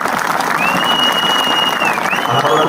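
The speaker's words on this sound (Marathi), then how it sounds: "सगळ्यांना मनापासून एकदा सगळ्यांसाठी टाळ्या वाजवायचा" A crowd at a political speech rally applauds in a dense, steady burst of clapping, with a thin high whistle-like tone sounding over it partway through.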